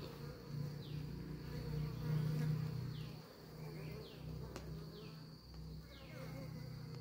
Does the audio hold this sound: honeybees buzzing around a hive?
yes